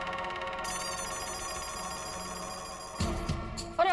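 A telephone rings as a call is placed from a home, a steady repeating electronic ring tone heard close and alone for several seconds before being cut off by louder noise.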